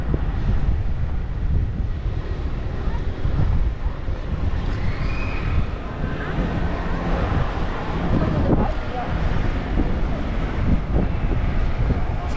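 Breezy outdoor wind on a city street in San Francisco, a steady broadband rush and buffeting on the microphone with low rumble throughout, no talk over it.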